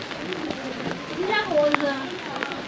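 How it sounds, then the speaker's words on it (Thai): Heavy rain pours steadily in Shangri-La, China, a constant broadband hiss that runs under someone talking throughout. "เหมือนฝนจะตกหนักกว่าเดิมอีกนะเนี่ย"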